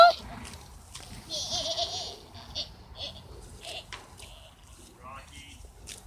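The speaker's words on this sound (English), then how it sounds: "That goat sounds weird." A goat makes strange, warbling bleats in short bursts, with voices talking and reacting nearby and faint splashing in the background.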